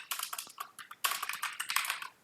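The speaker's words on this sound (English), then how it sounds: "wow, I am not typing well today" Close, rapid clicking of a computer keyboard as code is typed, falling into two dense bursts of uneven keystrokes with a short pause between them.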